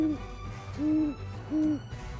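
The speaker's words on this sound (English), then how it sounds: "Number 5. Great Horned Owl." Great horned owl hooting, three deep resonant hoots spaced evenly in steady rhythm, clear and close against a quiet background.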